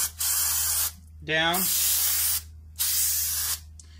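Brake cleaner sprays in three long hissing bursts onto a Ford Mustang's rear brake rotor, loud and close, with a brief spoken word between bursts.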